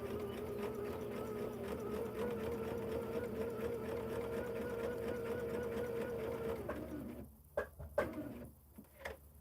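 A sewing machine runs steadily, stitching hexagon quilt pieces, a loud continuous motor whir for about seven seconds before it stops, leaving a few soft handling clicks and fabric shuffles.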